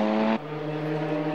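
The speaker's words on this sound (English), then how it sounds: "Verdenroe slowing in the howling V12. Is just chugging along now." A V12 race car, running out of fuel, slows at Oulton Park during the 2000 British GT Championship. A strong engine tone drops abruptly to a lower, steady chugging drone that carries on alone.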